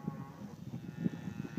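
Hereford cows with their calves in a Nebraska pen, lowing in deep, repeated moos at close range, several animals overlapping in a steady murmur.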